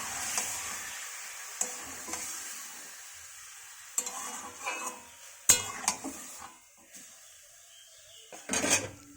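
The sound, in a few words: meat frying in mustard oil with whole spices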